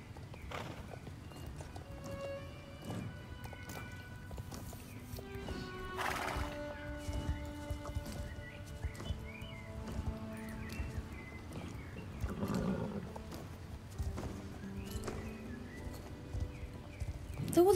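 Horse hooves clip-clop steadily in the online game Star Stable Online, with neighs and whinnies over a background of game music and faint talk.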